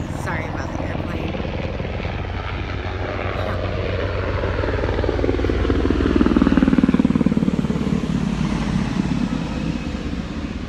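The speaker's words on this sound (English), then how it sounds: "Sorry about the airplane." Aircraft passing overhead outdoors, a steady broad engine roar that swells to its loudest around the middle and then eases, heard alone with no talk.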